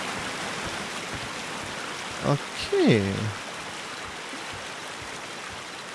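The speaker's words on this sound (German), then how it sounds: "Boah, ist das Wasser laut." Loud, steady rushing water fills the scene in the video game Sherlock Holmes: The Devil's Daughter, a constant wash of noise beneath a brief spoken word and a couple of short sounds.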